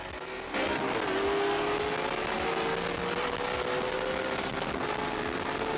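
A 3-valve pro-charged Mustang engine packed with heavy boost revs loud and close, its pitch climbing steadily in one sustained, building pull with no voices over it.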